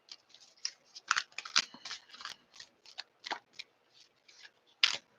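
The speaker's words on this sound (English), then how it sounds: "for that much shuffling to be happening there" Tarot cards are shuffled by hand in quick, uneven bursts of crisp riffling and slapping, close and fairly soft, with short pauses between the flurries.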